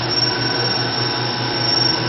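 A used 2000 Haas VF-5 vertical machining center runs its spindle at 7,500 RPM, a steady high mechanical whine and hum with no tool change, heard alone.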